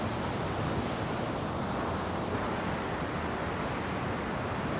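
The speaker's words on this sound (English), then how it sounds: "Welcome to the waterfall." Waterfall in Switzerland pouring into a pool, a constant broadband rushing roar of falling water heard close by, steady and unbroken with no voices.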